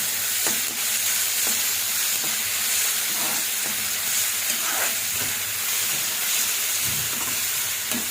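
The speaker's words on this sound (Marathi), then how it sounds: "कांदा थोडा लालसर होईपर्यंत आपण व्यवस्थित त्याला परतून घेणार आहोत" Onion and green chili sauté in a hot pan for an onion-based masala dish, giving a steady, close sizzle and frying hiss with occasional stirring scrapes throughout, and no voices.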